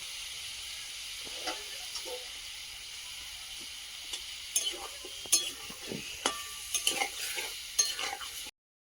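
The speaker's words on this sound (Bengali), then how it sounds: "এর মধ্যে কুচিয়ে রাখা পেঁয়াজগুলো দিয়ে দেবো" Chopped onions sizzling with meat in a pan, a steady hiss of frying broken by stirring scrapes and clatters that grow busier toward the end.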